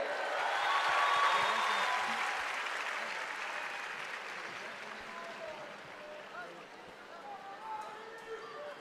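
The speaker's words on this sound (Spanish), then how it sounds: "¡El aplauso para él!" A large audience at the Viña del Mar festival in the Quinta Vergara applauds, loud at first and slowly fading over several seconds, with a few cheers mixed in.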